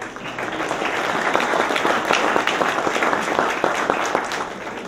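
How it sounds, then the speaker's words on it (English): Audience applause fills a golf association's president's dinner, a dense, steady round of clapping from many hands at a moderate distance, holding throughout before easing slightly at the end. "Oh yeah, you're supposed to clap, I was reminded you."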